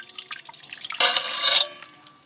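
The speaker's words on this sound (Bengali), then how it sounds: "এবার মাটনের যে ঝোলটা বেশি ছিল এটা পুরোটাই দিয়ে দেব।" Leftover mutton gravy poured into a biryani pot over yogurt, biryani masala and fried onions: a short wet splashing pour of about half a second, framed by faint drips and clinks.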